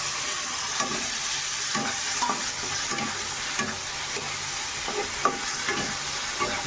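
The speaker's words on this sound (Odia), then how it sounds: "ଟମାଟର ଭଜା ଚାଲିଛି ମସଲାରେ" Tomatoes fry in a spiced masala base for a fish head chenchada, giving a steady, loud, close sizzle and hiss with occasional scrapes of a stirring spoon. No one speaks.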